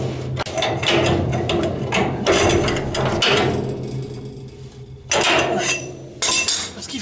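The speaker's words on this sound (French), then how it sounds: "maintenant je vérifie que je peux bien serrer mon boulon avec une clé de 35" A 35 mm wrench works a bolt on a Citroën Traction 11B, giving loud metallic clanks and ratcheting clicks in bursts, with quieter pauses between strokes.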